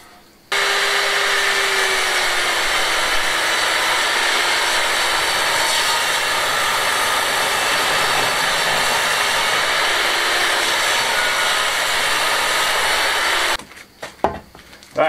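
A power saw cuts strips of wood in an old farmhouse renovation, a loud steady high whine running unbroken for about thirteen seconds, then stopping abruptly, followed by a few clatters and no talk.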